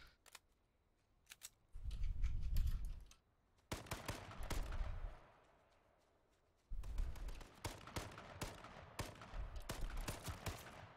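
Bursts of rapid gunfire in a video game, loud and sharp, with clusters of shots and short pauses between volleys and no talk.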